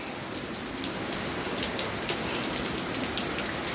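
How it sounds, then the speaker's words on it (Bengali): Steady rain pattering on surfaces outside, an even, continuous wash of drops at moderate distance with no voices. "আর বৃষ্টি হচ্ছে, খুব সুন্দর বৃষ্টি"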